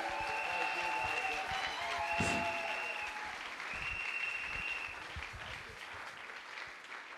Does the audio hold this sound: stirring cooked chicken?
no